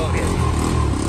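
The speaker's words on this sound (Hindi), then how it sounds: "बाइक का रक्षा स्टार्ट हो जाएगा" Motorcycle rickshaw engine turning over and catching during rain, a loud, dense low chugging heard close up with voices talking over it.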